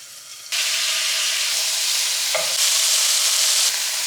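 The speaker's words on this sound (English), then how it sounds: "we want this to like sear as soon as I put the pork belly in" Pork belly hits hot avocado oil for a Korean school lunch, and a loud, steady, close sizzle bursts in abruptly, then swells even stronger partway through, a continuous broadband hiss with no talking.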